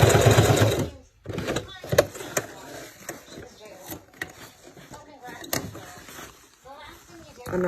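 A sewing machine stitching leather pants, giving short bursts of mechanical whirring between pauses, heard close up beneath a person talking.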